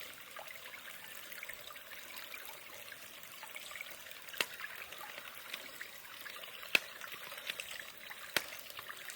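A water filter pump dunked in water and starting to pump, heard as a faint continuous trickle with a few soft clicks and small splashes, no talking.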